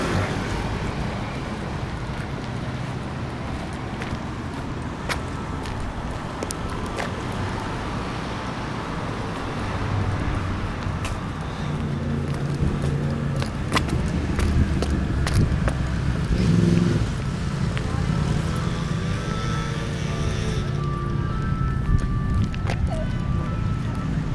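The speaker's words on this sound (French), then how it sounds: "je regagne la route et le bruit des voitures, des moteurs" Steady rumble of city road traffic, with car engines droning and vehicles passing at a moderate distance, occasional sharper knocks over the continuous wash of noise.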